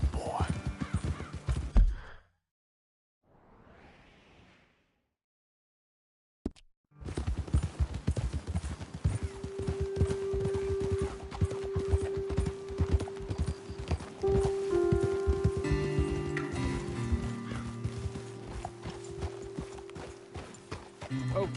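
Horse hooves clip-clopping in a PS4 video game, a steady run of close, rhythmic hoof strikes after a brief quiet gap, with occasional whinnies and distant bird calls.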